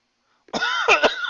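A single close, sharp cough followed by a couple of quick rough bursts, loud against an otherwise silent background.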